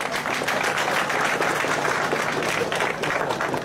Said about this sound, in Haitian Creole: S'il vous plaît, applaudissez encore.